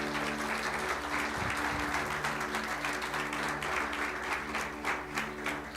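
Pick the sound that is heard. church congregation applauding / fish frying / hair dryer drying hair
church congregation applauding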